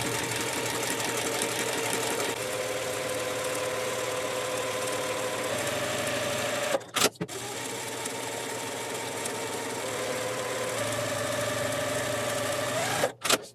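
A sewing machine stitches quilt block fabric in a close, steady mechanical hum that runs for several seconds, pauses briefly, then stitches again before stopping.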